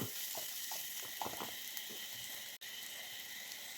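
Potato, carrot and coconut milk stew sizzling and bubbling steadily in a pan after pepper powder goes in, with faint soft stirring scrapes near the start.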